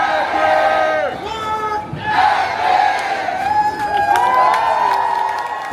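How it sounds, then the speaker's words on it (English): Large early-morning crowd at the front gate of Epic Universe on opening day, cheering and shouting together with sustained roars and whoops that rise and fall, loud and close throughout. "here I am with this early morning crowd in front of Epic Universe"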